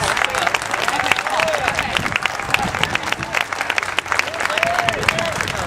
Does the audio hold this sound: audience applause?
yes